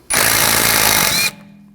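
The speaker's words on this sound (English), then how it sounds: "Now take this screw out, use a T30 socket." A power tool whines loudly for about a second as it backs out a screw with a T30 socket during rear brake work on a 2006-2009 Audi S4 4.2L V8, then cuts off abruptly.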